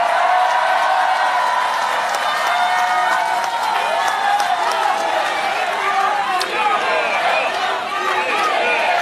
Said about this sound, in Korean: 박수 좀 크게 써주세요.